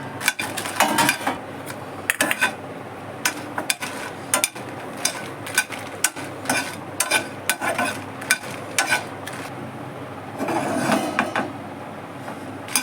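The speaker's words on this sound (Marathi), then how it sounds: "आता थोडंसं तेल टाकलं आहे भाजायला" Chillies roast in a little oil in a pan for a Mangalorean chicken gravy, light sizzling broken by frequent sharp clinks and scrapes of a spatula against metal, close and irregular with no talk.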